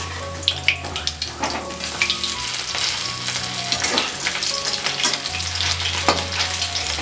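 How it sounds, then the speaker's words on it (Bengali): Amudi sea fish fry in hot oil in a wok, with a steady bright sizzle and scattered scraping clinks as the pieces are turned over; no talking. "মাছগুলো এক পিঠ ভাজা হয়েছে, মাছগুলো আমি উল্টিয়ে দিচ্ছি।"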